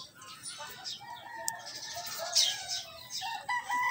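Fighting roosters being loaded onto a truck crow and cluck intermittently at a moderate distance, several birds calling in overlapping bursts over faint background noise.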